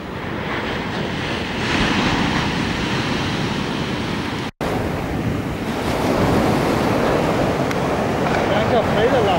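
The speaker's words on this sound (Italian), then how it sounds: "Ah, che onda!" Ocean waves break on a beach in San Diego with a loud, continuous roar of surf and wind buffeting the microphone, and a brief dropout midway.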